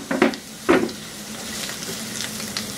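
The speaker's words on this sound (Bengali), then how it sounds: "আমি কিন্তু হাই হিটে ভাজতেছি" Onions and mushrooms frying on high heat in a pan, a steady close sizzle with two sharp stirring clatters near the start, then an even crackle that continues alone.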